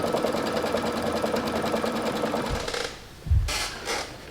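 A home embroidery machine runs steadily, stitching down a fabric triangle in a piece-in-the-hoop quilt block with a fast, even mechanical stitching rhythm, then stops, followed by a brief clunk and a couple of light clicks.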